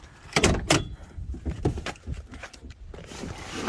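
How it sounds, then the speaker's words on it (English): Back door of a 1999–2007 GM vehicle being opened, a few sharp clunks and latch clicks followed by softer rustling, close and fairly loud with no talking. "I suppose we can open up the back door."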